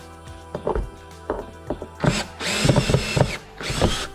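A power tool unbolts the camshaft endcap bolts on a Subaru 2.5 engine during a head gasket job, short close whirring bursts with metallic clunks between them, followed by longer, louder runs.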